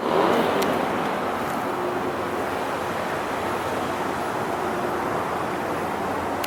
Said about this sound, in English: So the car still runs.